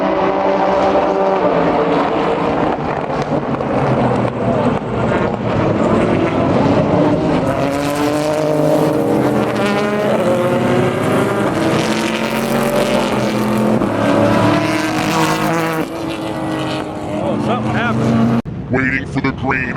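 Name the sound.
race cars at race start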